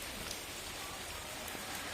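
Rain falling steadily in a home garden, a faint even patter spread across the whole stretch with no voices.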